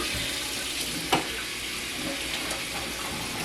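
Water runs steadily into a kitchen sink while a shelf is cleaned in it, a close, even broadband rush with one brief knock partway through and no talking.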